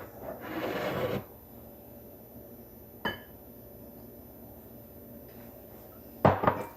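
Bisquick, eggs and milk are stirred in a bowl, with a short burst of scraping and sloshing followed by a quiet stretch, a single knock against the bowl and a final clatter near the end.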